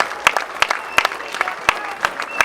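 Crowd applause at a Newport Gulls vs Ocean State Waves baseball game, honoring volunteers and a Navy member; a steady wash of clapping with sharper individual claps standing out, moderately loud and without talk.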